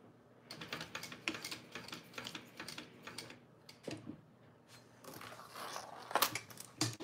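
A sewing machine stitches a leather-style wallet at an angle, giving off close, uneven bursts of clicking mechanical taps with brief pauses between runs.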